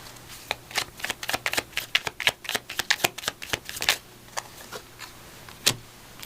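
Oracle cards from a Divine Doorway deck being shuffled for a tarot reading, a run of quick, crisp riffling flicks close to the mic, dense at first and then thinning to a few isolated snaps, with no talking.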